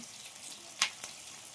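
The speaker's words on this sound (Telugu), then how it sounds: "నాకైతే భయం వేస్తుంది, ఆయిల్ చాలా మసులుతుంది." Chicken pakodi frying in very hot oil, a faint steady sizzle with two short sharp spits or splashes close by, no talking.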